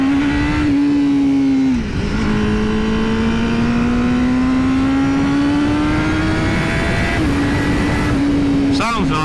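A 2020 Honda Fireblade motorcycle engine revs hard at the top end, a loud, sustained high-pitched howl that climbs steadily, dips briefly at a shift and rises again, close and continuous throughout.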